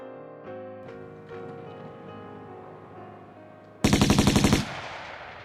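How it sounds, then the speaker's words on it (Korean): A quiet musical passage in the film Life Is Beautiful is abruptly cut by a loud, rapid burst of gunfire, about eight quick shots, followed by fading echo. "그런데 이내 총성이 들리면서 귀도는 죽게 됩니다"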